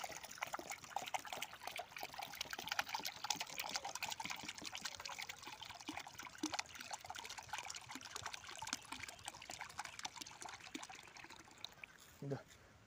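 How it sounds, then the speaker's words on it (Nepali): A faint, steady trickle of water poured into a small pot in a vegetable garden, a thin continuous pouring sound at low level with occasional soft talk. "यसलाई सानो भाँडामा पानी राखिदिउँ ल"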